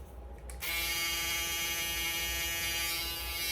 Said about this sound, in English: I love this shaver